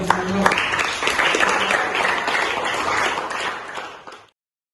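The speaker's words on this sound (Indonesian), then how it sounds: "Oke, tepuk tangan dong." Classroom participants applaud during an Indonesian teacher-training lesson, a lively patter of clapping that runs several seconds before tapering off and stopping abruptly.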